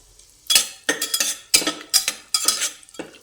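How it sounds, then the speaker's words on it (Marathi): Garlic and cumin in hot oil inside a pressure cooker, heard as a handful of sharp metallic scrapes and clinks from a spoon in bursts, near and fairly loud, with only a faint sizzle between strokes. "लसणाचा कलर बदलूपर्यंत तळून घ्यायचं"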